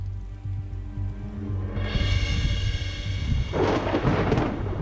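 A thunderstorm over Alberta in summer lets loose a deep, sustained roll of thunder that swells into a loud, crackling rumble partway through and keeps growling on without any talk.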